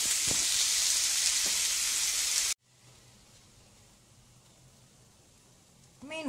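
Finely chopped nasturtium wrap ingredients fry in a pan of oil, giving a loud, steady sizzle for about two and a half seconds before it cuts off abruptly to a quiet room.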